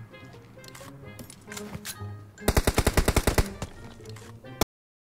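Automatic gunfire in PUBG Mobile, a fast evenly spaced string of about a dozen loud close shots following quieter game sounds and scattered clicks, ending abruptly.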